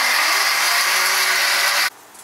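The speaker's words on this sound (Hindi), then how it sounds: "अब हम इसको मिक्सी में फटाक से पीस।" A kitchen mixer grinder grinding tomato paste whirs at high speed for about two seconds, then cuts off abruptly, leaving a quiet hum.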